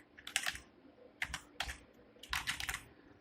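Keys clatter on a computer keyboard in three quick bursts of typing, close and clear with short pauses between, no voices.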